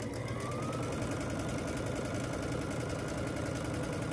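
A sewing machine runs steadily, stitching pieces of a Churn Dash quilt block together, its motor hum and rapid needle chatter continuous and close throughout, with no talking.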